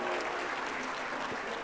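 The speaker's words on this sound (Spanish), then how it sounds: "un fuerte aplauso de parte de toda la comunidad educativa del estado de Jalisco" Applause from an educational community audience at an education technology event in Jalisco, steady and dense broadband clapping throughout a short burst, moderately faint and fairly distant, with no talk over it.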